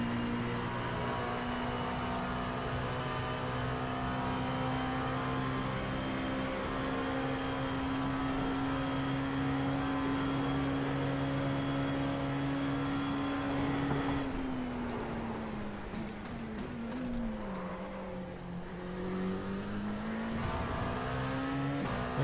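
A race car engine from the sim racing game iRacing at Le Mans holds a steady loud drone that dips and shifts pitch midway as the car slows and picks up again, with no talk over it.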